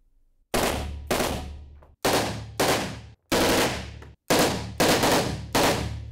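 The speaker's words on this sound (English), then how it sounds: "This is an AK-47, the type of gun used by the Paris attackers." An AK-47 rifle fires in short, loud, close bursts of rapid automatic shots, about eight bursts separated by brief pauses, with no talking.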